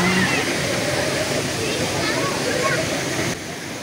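Curug Pangeran waterfall, its water murky after recent rain, roars in a steady, dense broadband rush that fills the whole clip at close range, with faint voices of a busy crowd of visitors mixed underneath.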